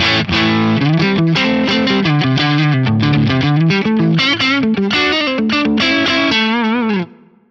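An electric guitar on a Stratocaster neck pickup through a modeled AC20 amp, 12AX7 treble version, with compression plays a busy run of gritty, overdriven notes and chords, ending on a ringing chord that decays with reverb.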